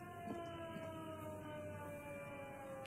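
A siren wails steadily in the Disco Elysium game, its sustained tone holding over a low ambient bed across the whole stretch, fairly faint and without voices.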